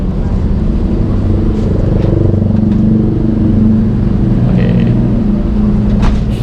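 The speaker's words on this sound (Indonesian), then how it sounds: "Nah, bisnya lanjut ke parkiran belakang." A Berlian Jaya intercity bus on the Cepu route rolls into a rear parking lot, its engine droning loud and steady at close range with faint clatter over the rumble.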